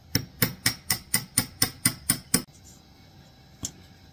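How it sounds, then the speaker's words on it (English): A hammer strikes a chisel driven into an antique wooden desk, nine sharp, evenly spaced blows close up, then quiet and one lighter tap near the end. "I'm just gonna drive a chisel down that line just to open it up a little"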